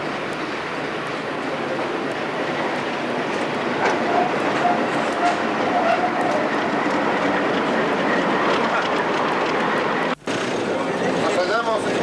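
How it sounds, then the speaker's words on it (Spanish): The inside of the cab of diesel locomotive AFE 1602 while running: a steady, loud rumble and rattle with rail clatter, and a brief dropout near the end. Voices murmur faintly in the background. "Nos hallamos en el interior de la cabina de la locomotora Ayco RCD3 de AFE 1602"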